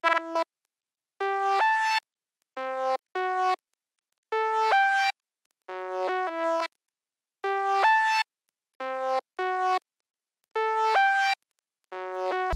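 A bright synth counter melody called Feed the Little Creature, part of an FL Studio beat: short clipped note bursts in a bouncing, gapped rhythm with silences between phrases, soft and alone.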